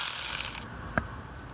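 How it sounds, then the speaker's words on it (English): A socket wrench ratchets on 10mm bolts holding an ignition coil on a Silverado 5.3 or 6.2 engine, a quick burst of close, clicking ratchet strokes followed by a single faint tap. "Go ahead and get yourself a 10mm socket or wrench. Just remove these bolts."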